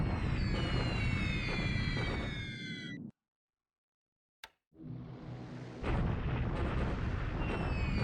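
Bombing raid explosions in a WWII strategy video game, a loud sustained barrage of booming blasts with whistling tones, cut by a sudden silence and a sharp crack before the rumbling resumes.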